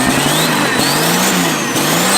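A Mustang with a swapped-in Cummins diesel engine revs hard on a stuck throttle, holding a loud, close, sustained high-rpm roar with slight wavering pitch throughout.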